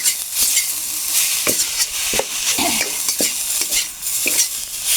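Minced pork being stir-fried dry in a pan for a spicy Thai dish, with loud continuous sizzling and repeated sharp spatula scrapes and clinks against the pan close by.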